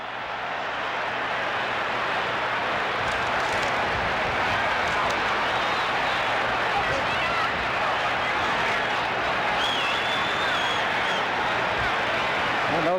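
A packed arena crowd at a heavyweight boxing rematch roars and cheers nonstop as Muhammad Ali does his shuffle against Leon Spinks, a dense, loud wall of sound with a commentator talking over it.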